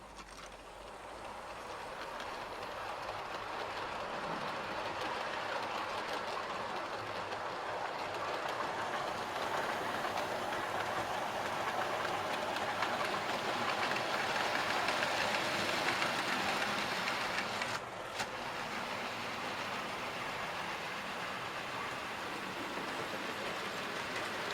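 GWR King Class model locomotive running through a loft layout, a steady near rumble with faint clickety-clack of wheels on rail joints, continuous throughout with a brief dip near the end.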